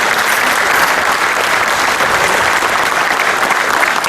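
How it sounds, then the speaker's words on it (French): Standing audience applauding Gilles Pargneaux at a tribute event held by the Oujda Arts association, a dense, loud, steady wash of clapping that fills the whole stretch without pause. "je voudrais que vous l'applaudissiez et que vous leviez pour l'applaudir"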